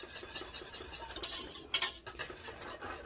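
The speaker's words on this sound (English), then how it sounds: "Okay, let's get this nice and stirred up, incorporated" Alfredo sauce with nutmeg stirred in a pan, a close, continuous wet scraping and swishing of a utensil against the pan, with a few sharper clinks, no talking.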